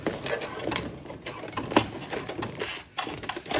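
A sewing machine stitching through vinyl while making a zipper pouch, rapid mechanical clattering in uneven bursts with short pauses, close and moderately loud.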